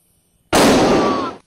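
A single loud gunshot sound effect bursts suddenly after near silence, a harsh close blast with a short decaying tail.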